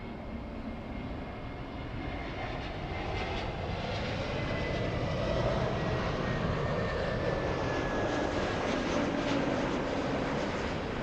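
Airliner on the arrival from Chicago into Los Angeles International, a steady broad jet engine roar holding loud and constant throughout with a faint tonal whine, no voices.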